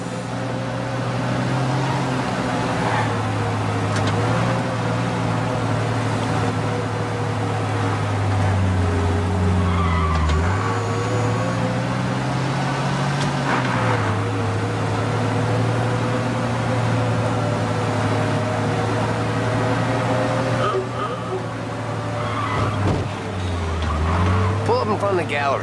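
Car driving in Mafia Definitive Edition, a steady low engine hum with shifting pitch that runs continuously throughout, with people talking over it.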